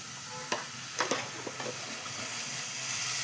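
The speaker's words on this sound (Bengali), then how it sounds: "দিয়ে এবার একটু হালকা করে ভেজে নেব।" Mushrooms sizzle lightly in a pan for a cream prawn-and-mushroom dish, a steady close hiss broken by a few sharp clicks of stirring, with no talk.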